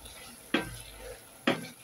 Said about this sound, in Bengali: এদিকে আবার শুটকি তরকারি কষাইতেছি